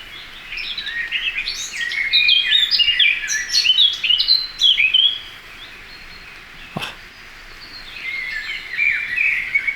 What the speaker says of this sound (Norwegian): Svarttrosten er så fin.